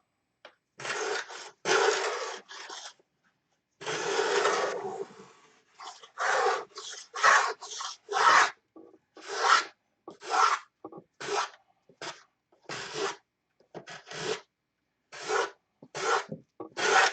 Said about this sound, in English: And then sand from the outside.